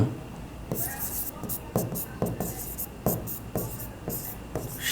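A pen scratches out a company name on paper during an accounting lesson, giving a series of short, close strokes with quick pauses while a faint voice talks in the background.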